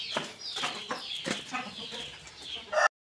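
Backyard chickens and a rooster, kept hens with chicks, clucking in a string of short, loud calls close by, with light rustling between them and a sharp burst right before it cuts off.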